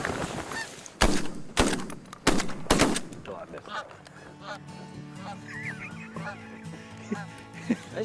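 Shotgun blasts ring out while hunting Canada geese: several loud, sharp reports in quick succession early on, followed by goose honking and calling through the rest, with people talking faintly.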